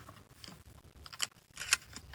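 Shells clicking into a Turkish pump-action shotgun's magazine while loading low-brass shotgun shells, two sharp close metallic clicks with softer handling noise between, no talking.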